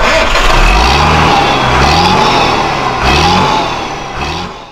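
A truck engine revs up several times in a row, each surge rising in pitch and then falling back, loud and close with a steady rumbling idle between the bursts.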